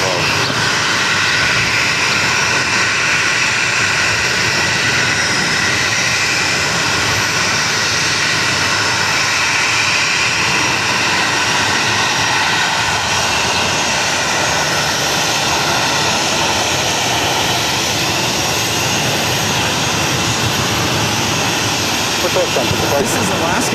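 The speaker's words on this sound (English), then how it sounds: "This is Alaska Airlines 424 coming in from Seattle on the 737-900ER in the One World livery." Alaska Airlines Boeing 737-900ER in oneworld livery arriving at Boston Logan from Seattle, a steady, fairly loud jet engine roar that holds broadly throughout with airport background noise.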